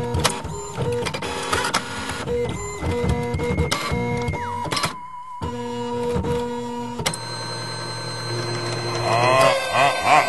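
A haunted printer whirs and clatters through a long run of mechanical feeding and grinding noises, with a steady hum and a brief near-silent pause midway before the machine churns on loudly.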